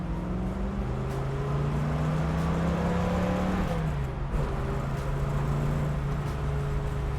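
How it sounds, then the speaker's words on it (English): A 1965 Ford Mustang in second gear accelerates steadily under added throttle, its engine note rising continuously and loud up close, with a brief dip around an upshift before pulling again. "Let's give it a little bit of gas."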